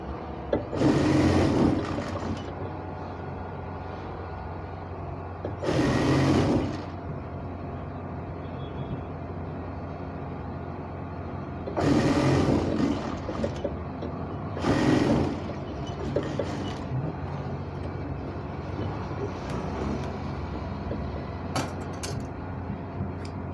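A sewing machine stitching a trouser waistband facing runs in four loud, close bursts of a second or two each, separated by quieter stretches of low background hum.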